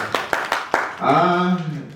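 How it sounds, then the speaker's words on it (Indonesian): A handful of sharp, separate claps from an audience applauding colleagues at a teachers' positive-culture dissemination session, sparse and brief, quickly giving way to a speaking voice. "tepuk tangan untuk semua rekan-rekan sekalian"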